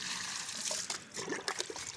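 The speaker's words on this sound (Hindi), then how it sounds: "ये बाल्टी हमारी भर गई है, हम अभी पानी देते हैं पौधों को।" Water poured from a bucket onto plants outdoors, a steady close trickle and dribble with a few heavier splashing spurts, heard alone without talk.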